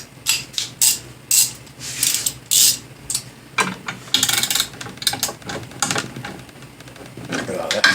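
A ratchet wrench on a 3-inch extension turns a bolt on a Ford Expedition, clicking in repeated quick bursts up close, with a few short pauses between strokes.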